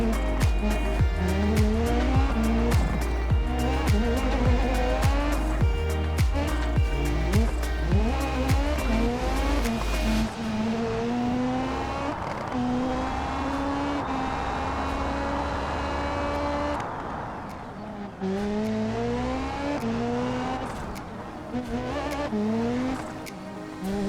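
Race car lapping in the BeamNG driving game, engine revving loudly with rising and falling gear pitches and repeated tire squeal through corners, continuous and close, no talk.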